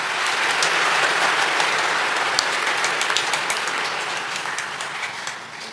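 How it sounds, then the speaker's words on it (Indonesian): Church congregation applauding the young people after a homily: sustained, loud, dense clapping from a large crowd that slowly fades toward the end. "Tepuk tangan untuk Krismawan-Krismawati kita"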